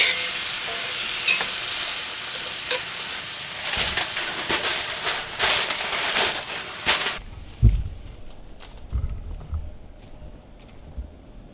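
Steak sizzles over a campfire in the cold outdoors, a loud crackling fry with sharp pops that drops off abruptly midway, followed by quieter clanks and handling noises as foil goes over it.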